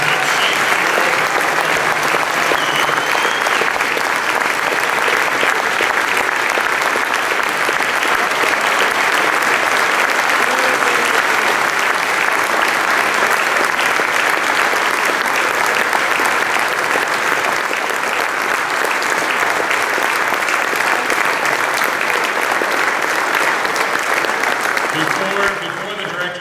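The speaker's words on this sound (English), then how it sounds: "Could we have one more round of applause to all these influential leaders" Sustained, dense applause from a large concert audience at a school district's alumni instrumental music concert, loud and continuous for the whole stretch with no break, fading only slightly at the very end.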